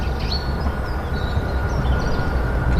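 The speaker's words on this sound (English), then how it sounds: "There's a train going by now, with a tram." A train rolls past with a tram in a city park below Salisbury Crags, a continuous rumbling drone with faint high squeals, heard from a distance amid traffic hum.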